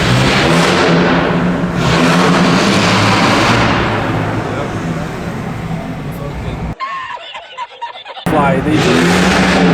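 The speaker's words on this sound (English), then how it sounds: "that's the Mustang behind us, bro. It's like a 4-cylinder." A four-cylinder Ford Mustang at a college car meet drives past loud and close, its engine roar swelling and fading under excited chatter, then briefly cutting out before noise returns.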